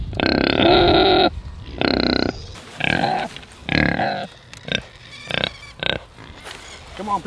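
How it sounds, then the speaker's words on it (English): Month-old piglets on a small farm grunt and squeal in a run of loud, close bursts, several overlapping calls at first, then shorter snorts spaced apart. "These little pigs are about a month old now"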